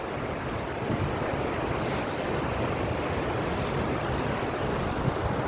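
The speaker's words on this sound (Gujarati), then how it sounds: "જો પાણીની આવક તો છે પણ દરિયામાં જાય અટાણે ફૂલ આવક છે." Rushing floodwater pours through open gates and flows out to the sea, a dense, constant broadband roar with steady wind buffeting, unchanging throughout and heard at a fair distance without talk.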